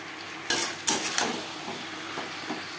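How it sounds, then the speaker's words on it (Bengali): A spoon stirs drumsticks with potatoes and spices in a pan, producing a few sharp clanks against the metal at first, then softer scraping over a quiet background sizzle. "আলু ও মশলার সাথে সজনে ডাঁটা বেশ ভালো করে মিক্সড করে দেবো।"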